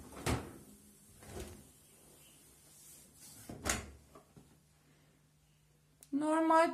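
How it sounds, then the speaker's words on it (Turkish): A dishwasher door is handled and pushed shut after white vinegar is added, producing several close thuds and clunks with quiet stretches between, then a voice starts speaking at the end. "Sonrasında bulaşık makinemizi kapatıyoruz."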